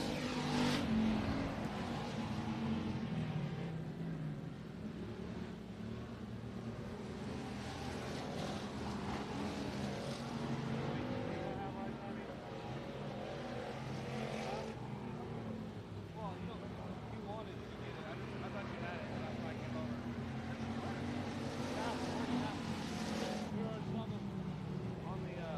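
Sprint cars racing on the final lap of a heat race at Texana Raceway Park, a continuous loud engine roar that rises and falls as cars pass, with a commentator talking over it.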